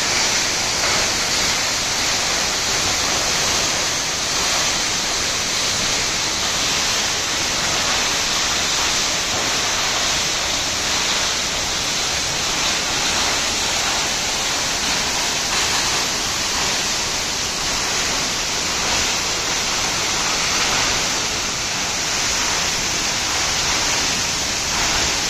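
Steady, dense roar of water pouring down at Baba Waterfalls in Kumbwade, Maharashtra, close and loud, with no break or voices across the whole stretch.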